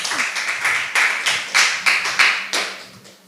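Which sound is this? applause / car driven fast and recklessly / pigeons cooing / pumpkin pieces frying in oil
applause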